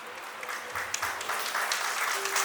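Applause from guests at a family communion celebration, a steady, moderately distant wash of many hands clapping throughout the short stretch, with faint murmuring underneath.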